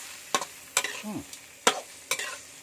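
Snails stir-fried with curry paste in a wok, four sharp scraping strokes of the spatula in an uneven rhythm, each followed by a brief sizzle, close and clear with no talking.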